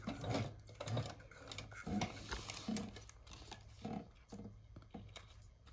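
A sewing machine stitches accordion card pockets in short, quiet bursts of rapid mechanical ticking, stopping and starting several times.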